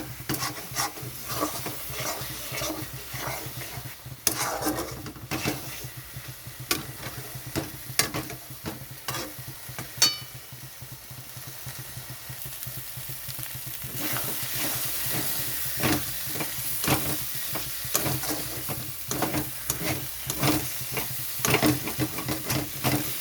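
Lote (Bombay duck) fish for a mashed bharta being stirred in a kadai, with repeated scraping and tapping strokes over a steady sizzle, fairly close and continuous.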